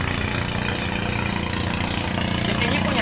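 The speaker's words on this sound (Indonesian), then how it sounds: "Ada perahu. Apa itu katinting?" A small katinting outboard motorboat engine idles steadily on a river mouth in Borneo, a low, constant chugging rumble, fairly close and unbroken for the whole stretch.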